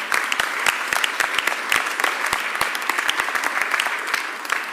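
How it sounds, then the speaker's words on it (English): Audience applause fills a Philadelphia civic announcement about the Sixers staying in South Philadelphia, a steady dense wash of many hands clapping at close range, continuous throughout with no voices above it. "So please give my members a real big round of applause."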